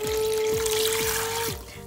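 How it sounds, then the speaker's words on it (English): Water poured into a beaker for a gummy bunny osmosis experiment, a steady close pouring and trickling wash lasting nearly two seconds before tapering off, with a faint steady tone underneath. "I got me water, so I'm gonna pour it in."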